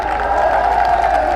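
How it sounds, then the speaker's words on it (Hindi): At a political rally, a large crowd roars and applauds in a brief, sustained, loud burst of mixed voices and clapping. "ताली बजाइए"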